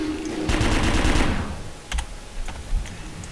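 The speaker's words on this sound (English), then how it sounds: "Infectors fire out small rounds at a higher rate, high velocity." An infector gun in the video game Defiance fires a rapid burst of small, high-velocity rounds, loud and dense at first, then fading into a few scattered shots.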